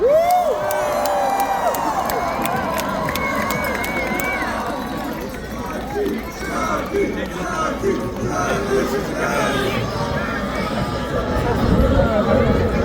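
A large crowd at a peace rally for Israel in Washington, DC, cheering, whooping and chattering continuously, loud and close, with voices rising into louder cheers toward the end.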